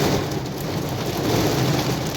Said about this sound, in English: I think the rain's here